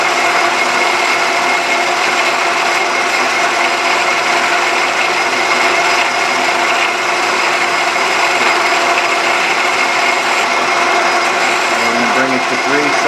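A metal lathe turns a shoulder on a shop hammer, giving a loud, steady, dense machining hiss and whir that runs unbroken throughout.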